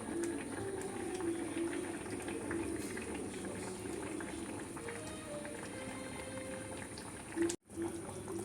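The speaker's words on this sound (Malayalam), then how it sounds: "മീൻ കറി നന്നായിട്ട് തിളച്ചിട്ടുണ്ട്" A pot of fish curry bubbles at a steady boil on the stove during a home-cooked traditional lunch, a continuous moderate simmering texture that drops out briefly near the end.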